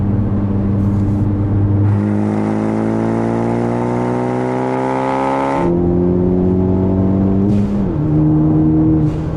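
A 2015 Ford Focus ST turbo engine climbs steadily in pitch, drops at a gear change and climbs again before a brief blow-off of boost, heard loud and close from inside the car.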